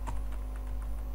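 Keys tapped on a computer keyboard while a PHP script is written, a quick run of soft clicks over a steady low hum, close and moderately loud with no voices.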